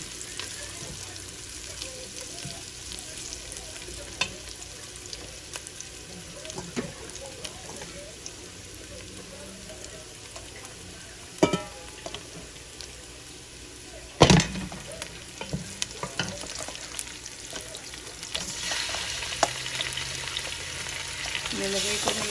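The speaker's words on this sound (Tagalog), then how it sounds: "Medyo nag-brown na yung bawang natin. Saka yung onion." Garlic and onion sizzle steadily in a hot pan for pork adobo, with occasional scraping stirs and clinks of a utensil against the pan, and a louder clatter midway.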